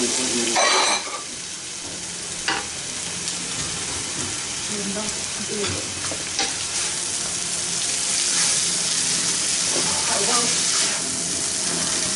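Noodles sizzle steadily in a hot pan while being stirred and tossed, with a loud continuous frying hiss, occasional scraping clatters and a brief louder clang at the start.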